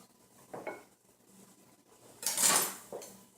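A knife strikes an avocado pit with a sharp clink, and a second, louder clatter follows as the pit is twisted free, set in a quiet kitchen with no talking.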